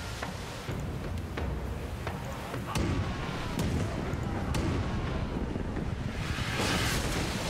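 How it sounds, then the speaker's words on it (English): Ship cannons fire in a naval battle in Pillars of Eternity 2: Deadfire, a series of sharp booming shots spread irregularly over wind and ocean-like rumble, with a heavier volley midway. "Fire starboard cannons."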